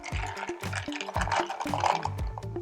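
Club soda poured into a glass to top a limoncello spritz, a steady bubbly fizz and splash lasting a few seconds, close and alone with no talk.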